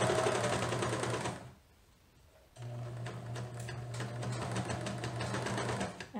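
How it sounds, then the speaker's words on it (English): A sewing machine stitches a garment neckline seam in a fast mechanical whir, stopping for about a second before starting again and running steadily to the end, close and alone. "I'm just going to stitch across my old stitches"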